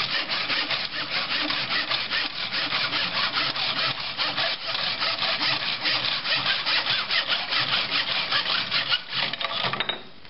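A hand saw cuts steadily through wood for a tabletop, its rapid back-and-forth strokes continuous, close and loud for the whole stretch, with no talking.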